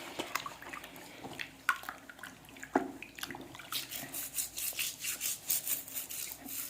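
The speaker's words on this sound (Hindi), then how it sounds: "ब्रश की मदद से मैं उंगलियों को भी अच्छी तरह से साफ कर रही हूँ।" An old toothbrush scrubs fingers as part of a hand and foot cleaning routine, with close, wet, bristly rubbing that starts irregular and settles into quick, rhythmic back-and-forth strokes, and no speech.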